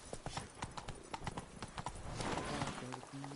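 Hooves of Roach, Geralt's horse in The Witcher 3: Blood and Wine, clip-clop in a quick steady rhythm, close and crisp, while a voice speaks briefly over the gait.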